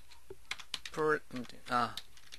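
Keys tap on a computer keyboard while code is typed in an ASP.NET MVC editor, with soft, quick clicks in short bursts under someone talking quietly in Korean.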